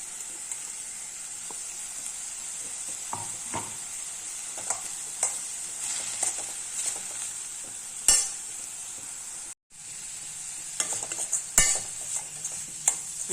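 Ground coconut is stir-fried into a carrot and beans poriyal in a pan: a steady soft sizzle runs throughout, broken by scraping and clinking spatula strokes, with one brief silent gap.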